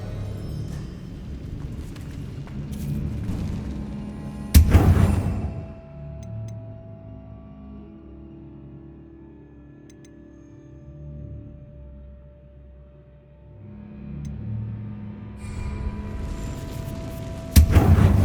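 Confringo blasting spells from Hogwarts Legacy erupt in two loud, sharp explosions several seconds apart, each a sudden booming burst over a steady background rumble of game ambience.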